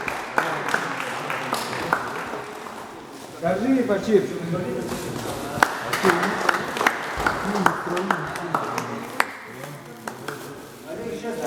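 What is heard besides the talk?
youth team clapping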